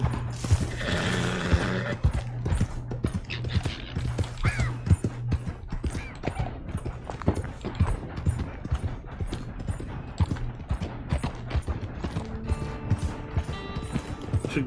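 Clip-clop of horse hooves in Red Dead Online, a steady rhythmic trot running throughout with a whinny near the start, close and moderately loud, over ambient game sound and no talk.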